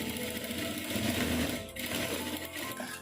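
A sewing machine stitches around the curved seam of a double katori blouse piece, a close, busy mechanical chatter that runs nearly continuously with a brief dip in the middle.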